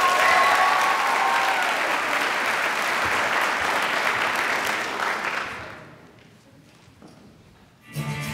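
A large audience at a school end-of-year show breaks into big, loud applause that holds steady for several seconds, then fades away to near silence before a brief new burst of sound at the very end.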